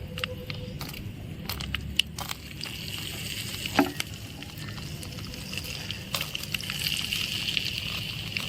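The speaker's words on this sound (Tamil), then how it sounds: "இப்போ நம்ம கருவேப்பிலைய உருவி போட்டுடலாம்." Curry leaves sizzle in hot oil in a tiny pan while miniature sambar is cooked, a close, steady crackling fry with occasional stirring clicks and no speech.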